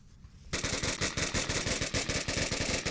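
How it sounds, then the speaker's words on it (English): Rapid automatic gunfire through a window in the video game Onward: after half a second of quiet, a loud, close, sustained burst of evenly spaced shots continues to the end, with no voices. "More shots through his window."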